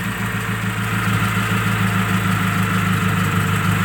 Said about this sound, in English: Idling good. Got a little tiny tick,